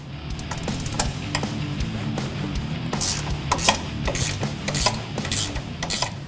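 A ratchet works loose the three 18mm nuts on top of a strut on a 2015-2018 Ford F-150 during a suspension kit install. Rapid, steady clicking runs throughout at moderate level, with a few sharper metallic clacks partway through.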